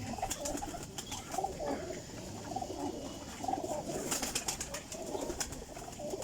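Teddy golden flying pigeons coo repeatedly in soft, low rolling calls, several birds overlapping steadily, with faint rustling and brief clicks in the background.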